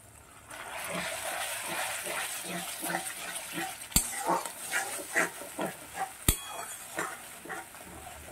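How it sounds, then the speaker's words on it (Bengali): Tomato paste stirred into hot oil with cumin, ginger and chili for Bengali dhokar dalna, giving a steady close sizzle with rhythmic scraping stirs and two sharp clicks of the utensil against the pan. "টমেটোটাকে খুব ভালো করে এর সঙ্গে কষিয়ে নেব।"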